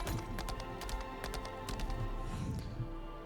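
Horse hooves clip-clop steadily through a ride in the game Lost Ark, a quick, even run of hoofbeats over a low background tone, moderately loud, with no speech.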